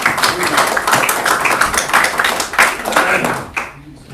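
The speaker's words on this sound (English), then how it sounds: "So let's give a round of applause." A church audience gives a steady round of applause for a visiting speaker, dense clapping sustained for about four seconds before trailing off near the end.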